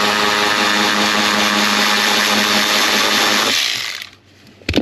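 A power tool whirs steadily at close range, removing a 10mm bolt from a Corvette accelerator pedal, then winds down and stops, followed by a faint clunk.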